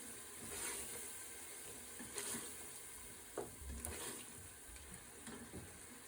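Spiced beef karahi fries in a pan with a steady, faint sizzle, broken by a few soft stirring scrapes and clinks, without speech.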